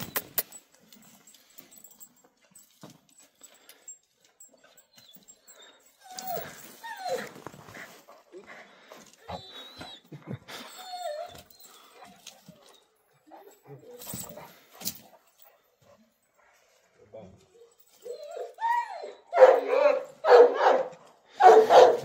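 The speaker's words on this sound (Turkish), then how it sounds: "Volkodov çoban köpeği" A Volkodav shepherd dog barks in a short cluster of loud, close barks toward the end, after quieter stretches of people talking and light movement sounds.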